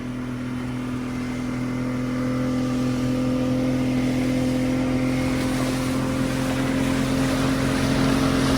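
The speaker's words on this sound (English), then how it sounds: "Nothing like a good sound of a two-stroke." A 1974 Chivers two-stroke outboard motor runs at steady speed on a fishing boat off Exmouth, giving a loud, continuous buzzing drone that swells slightly after a couple of seconds and holds without a break.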